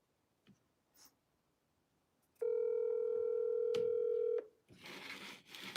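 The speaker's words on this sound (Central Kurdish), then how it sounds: "ئینجا با تەلەفۆنێکیشی بۆ بکەین" After a few faint clicks, a single sustained electronic telephone tone sounds for about two seconds, then stops and gives way to soft rustling.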